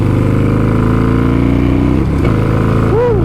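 A Harley-Davidson Sportster Iron 883 with an FP3 map and AutoTune setup revs hard on a test ride. The loud, close engine note holds steady, dips briefly, then rises again, with no talking.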